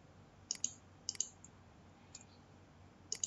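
Computer mouse clicks in quick pairs, three double clicks spaced about a second apart plus one faint single click, crisp and close in a quiet room.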